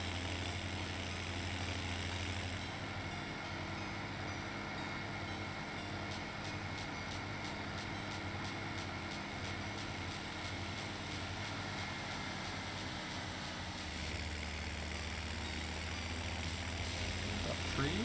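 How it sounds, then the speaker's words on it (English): Tractor engine idling in Farming Simulator 17, a steady low drone that holds through the whole stretch with some game ambience over it and a short shift in tone near the end. "Just going to turn the tractor volume down a bit."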